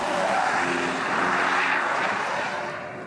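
A 2023 BMW 330e plug-in hybrid launches hard from a standstill with a loud, steady rush of engine and road noise. The sound holds strong throughout and eases slightly at the end.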